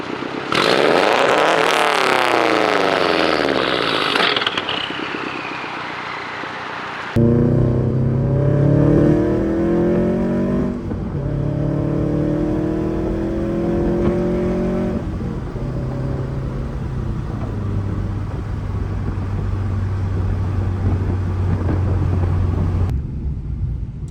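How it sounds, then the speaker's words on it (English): A Subaru WRX fitted with a Tomei exhaust revs hard, then settles into a lumpy, burbling idle with pops, heard up close and alone for the whole stretch. "I'm about to rev it and it'll pop."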